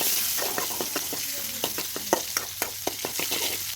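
Chopped onions fry in a pan with a steady hiss, while a utensil stirs them with a series of light, quick taps and scrapes.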